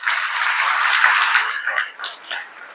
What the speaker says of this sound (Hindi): एक बार खुद के लिए तालियां।